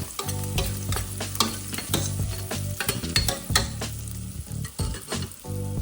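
Onions frying in a pan for a Sri Lankan fish cutlet, with steady sizzling and repeated stirring scrapes close up, over a faint musical bed.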